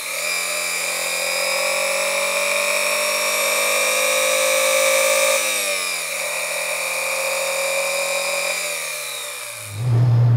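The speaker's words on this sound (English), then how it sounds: "It's good to vary the throttle, rev it out, hear how it sounds when it gets higher in the RPM." Car engine revving under light throttle during a knock sensor test, a smooth sustained whine that climbs slightly, dips around midway, then settles before the revs drop away at the end, close and without talk.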